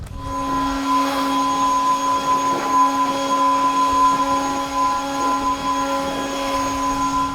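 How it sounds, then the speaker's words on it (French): A leaf blower blowing dust off and under a farm tractor drones steadily and loudly throughout, a constant whining hum with a rushing air hiss. "un petit coup de souffleur à feuille pour enlever la poussière sous le tracteur"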